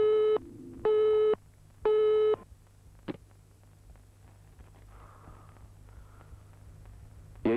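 Telephone busy signal sounding after a call: three loud, evenly spaced tone bursts, then a quieter line hum with a faint click and low static to the end.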